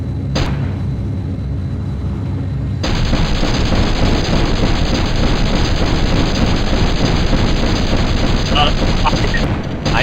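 Rapid automatic gunfire from a hover tank in Battlezone '98 as it shoots scavengers, a dense, continuous rattle of shots starting abruptly after a brief quieter lead-in and staying loud and close throughout.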